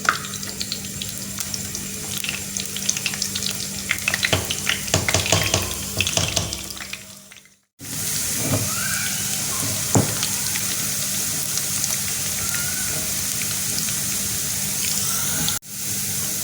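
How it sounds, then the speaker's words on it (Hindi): Onions go into hot ghee for a dal tempering and fry with a steady, hissing sizzle and crackle, loud and continuous, briefly cut off midway before the frying resumes. "घी गर्म हो चुका है और अब हम इसमें डाल रहे हैं प्याज।"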